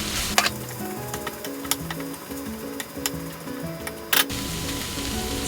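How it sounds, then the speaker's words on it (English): Freshly cooked rice sizzles in a hot pan for yakimeshi: a steady frying crackle with occasional sharp ticks and scrapes, close and moderately loud, along with a quiet background tone. "Now, add freshly cooked rice to the pan."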